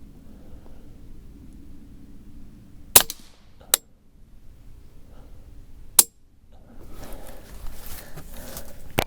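.22 rifle shots while zeroing an Arken EPL-4 4-16x44 scope: three sharp, loud cracks spaced a few seconds apart over a low outdoor background, with rustling handling noise after the last shot.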